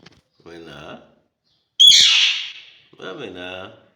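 A pet myna bird calls close by with a bright, shrill cry in the middle, framed by two softer, talk-like harmonic calls before and after.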